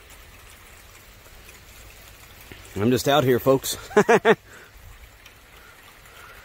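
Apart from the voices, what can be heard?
rain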